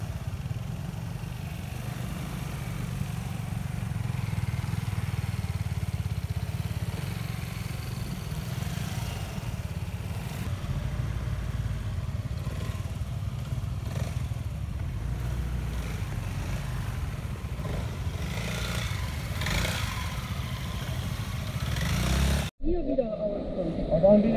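Steady scooter engine drone during a rider training run between traffic cones, a constant low rumble held close throughout, cutting off abruptly near the end.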